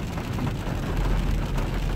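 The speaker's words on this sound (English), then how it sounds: "It's kind of nice to have the rain." Rain falling steadily on a rainy day on the road to Campo Alto Campground, California, a dense, even hiss of drops on surfaces with a low rumble underneath, close and continuous.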